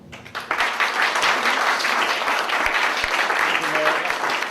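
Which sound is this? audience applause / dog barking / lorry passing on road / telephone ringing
audience applause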